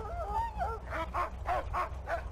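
Dog in Mad Max giving a rapid series of short barks and yips, about five in a row after a brief whine, fairly close and clear with no talking.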